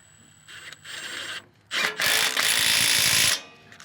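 A Milwaukee M18 FUEL Gen II 1/2-inch mid-torque impact wrench rattles in two bursts, a short one then a longer, louder hammering run, as it removes the mounting bolts on a tractor loader.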